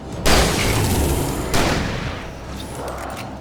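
Gunfire in the horror shooter Alan Wake Remastered, two heavy, loud blasts about a second apart, each trailing off in a long rumbling decay.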